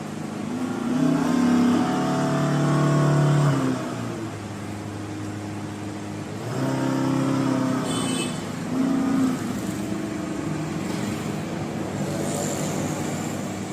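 The motor of a Komaki Ranger electric bike runs in reverse, giving a tonal electric whine that swells in two loud surges and then settles into a steadier, quieter hum, heard close up.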